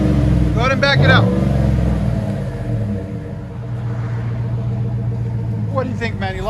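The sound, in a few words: 2008 GMC Yukon 5.3L V8 exhaust with Flowmaster Super 10 mufflers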